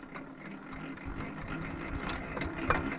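A diesel farm machine engine, oiled and kept tidy, is hand-cranked and runs with a steady, fast mechanical chatter and rattle, fairly near and continuous across the whole stretch.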